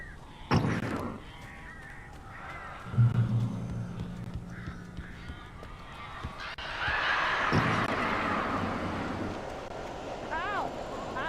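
Crows cawing in the Alan Wake video game, several harsh caws scattered through the scene amid rustling and thumps, with someone speaking over part of it.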